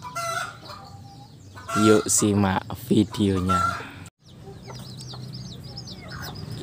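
A free-range hen clucking, with her chicks' high chirping peeps in the background; a person speaks briefly at the start before the birds carry on alone.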